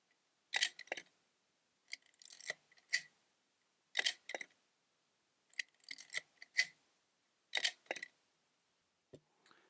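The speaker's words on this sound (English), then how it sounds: "it very much sounds like the shutter opens" Shutter and mirror of a Kowa E film camera firing repeatedly, each release a crisp mechanical snap followed by a second clack a moment later, about six releases at close range in a quiet room.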